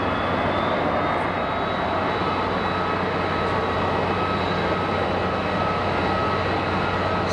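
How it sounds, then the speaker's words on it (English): A Pilatus PC-12 turboprop landing at an airport, heard as a dense, steady roar of propeller and engine noise with a faint high whine, loud and continuous throughout. "do you hear the prop going to beta?"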